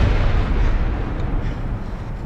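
Bombs exploding in a war film, a dense, continuous roar of deep rumbling blasts that stays loud and heavy throughout with no separate distinct hits.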